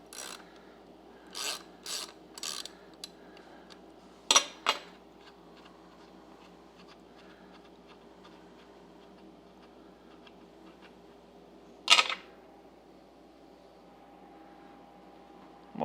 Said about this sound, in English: this is a tapered tap. So the deeper I go, the bigger the hole's going to get.